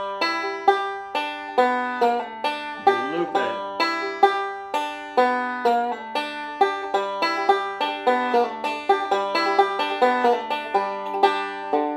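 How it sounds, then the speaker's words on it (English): A bluegrass banjo repeats the second measure of a tag lick over and over, steady bright picked notes and rolls in an even rhythm, close and clear, with a brief spoken remark partway through. "Measure two of the lick sounds like this on its own."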